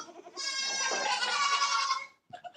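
Farm goats give one long, loud, wavering bleat that lasts nearly two seconds, followed by a brief softer animal sound close by.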